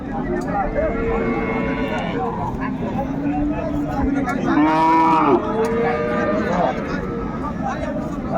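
A cow moos loudly nearby, a long low call swelling in the middle, with a second lowing call following, over steady outdoor background noise.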